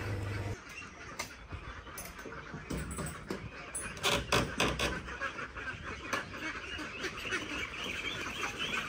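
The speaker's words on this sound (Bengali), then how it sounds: "আমার মায়ের হাঁস মুরগির যে খোয়ারটা আছে সেটা খুললে পরে কতগুলো হাঁস মুরগি বের হয়" Ducks and chickens spill out of a village coop, giving scattered quacks and honks amid a busy outdoor bustle, fairly faint and distant.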